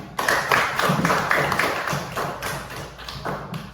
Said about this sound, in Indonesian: Tepuk tangan untuk semua dulu.